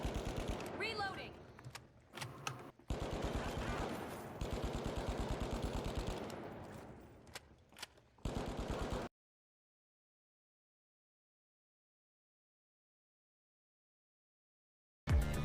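Rapid semi-automatic fire from the Pike 5.56 rifle in the video game The Finals, a loud clattering stream of close shots in quick succession with speech mixed in, ending abruptly in silence.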